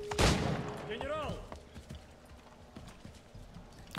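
Horse hooves clip-clop steadily in Assassin's Creed 3, with a horse whinny early on and gunfire-like bursts and game noise mixed in, a voice speaking over part of it.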